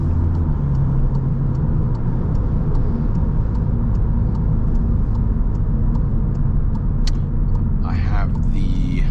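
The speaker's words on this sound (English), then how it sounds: "I also have an intake, you can hear that" A tuned MK7 VW Jetta GLI 35th Anniversary with an Integrated Engineering aftermarket intake airbox idles and rumbles heavily from inside the cabin, a steady loud drone with a faint periodic ticking and brief speech near the end.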